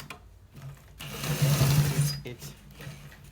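A sewing machine stitches a designer shirt collar in one close burst of rapid mechanical whirring lasting about a second, with quieter handling noise before and after.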